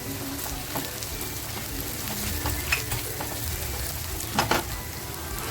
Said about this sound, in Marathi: लसूण टेचून घेतली होती ना ती लसूण टाकते आता